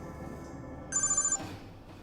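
A telephone rings as a call is placed, a single short electronic trill burst heard indoors against a low background hum, followed by quiet.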